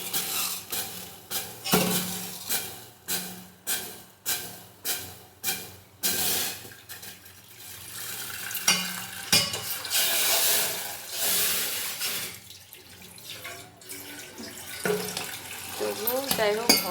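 Water hissing and sizzling on overheated steel cooking pots over a lit gas stove, with a run of sharp rhythmic bursts early on, then a steady, close, loud steaming hiss and clatter.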